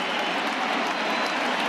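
A simulated baseball crowd in MLB The Show 20 roars and cheers without a break, a dense, loud wash of noise lasting under two seconds with no individual voices standing out.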